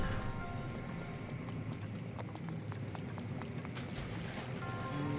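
Steady clip-clop of horse hooves at a trotting rhythm in The Legend of Zelda: Breath of the Wild, close and fairly loud against a constant background rumble, with no talking.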